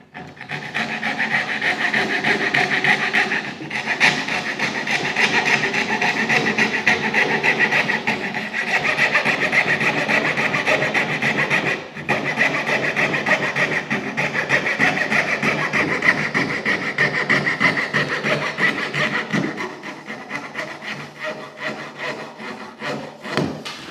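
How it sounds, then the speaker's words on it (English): A thin-bladed coping saw cutting a profile into a wooden skirting board, with steady rapid rasping strokes close up that continue for a long stretch and pause briefly a couple of times. "using a coping saw, which is a saw with a very thin blade, we take out the profile now"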